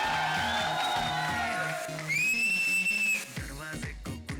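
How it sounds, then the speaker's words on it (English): A crowd cheers loudly for Fawad Khan at a Khoobsurat film promotion event in a store, with sharp, high whistles piercing through, over thumping background music. "the girls should make some noise for Fawad also"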